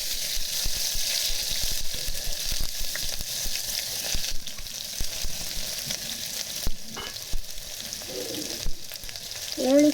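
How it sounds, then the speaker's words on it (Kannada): Onions frying in a pan with spices like cloves and bay leaf for vegetable pulao, a continuous close sizzle broken by frequent scraping and clattering stir strokes, with a brief faint voice near the end. "ಆಮೇಲೆ ನಾನು ಇವಾಗ ಅದಕ್ಕೆ ಈರುಳ್ಳಿ ಹಾಕ್ತಾಯಿದ್ದೀನಿ"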